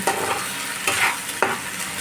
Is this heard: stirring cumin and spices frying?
yes